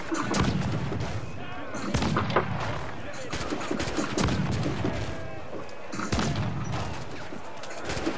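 Cannon fire from a pirate ship battle in Assassin's Creed 4 Black Flag: repeated heavy booming blasts at irregular intervals over dense crashing game noise.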